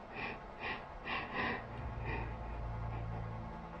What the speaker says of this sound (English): you can hear the fear in this man's breathing as he moves around his home